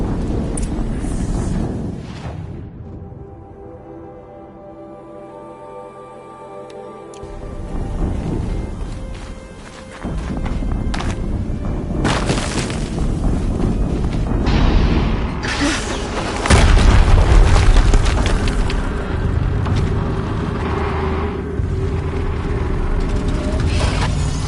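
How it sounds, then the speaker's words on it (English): Explosions in a PS4 video game rumble loud and deep, with heavy booms and rolling low roars that surge and settle repeatedly among other game effects. "explosion"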